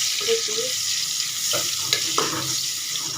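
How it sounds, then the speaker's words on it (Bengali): Onion goes into hot oil left over from frying fish, producing a constant, close crackling sizzle broken by a few soft stirring knocks. "মাছ ভাজা তেলের ভিতরে দিয়ে দিচ্ছি পেঁয়াজ"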